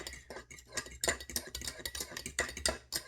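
A breakfast sandwich egg mixture being stirred up until frothy, with a utensil tapping and scraping rapidly against a bowl in quick, uneven strokes, close and fairly quiet.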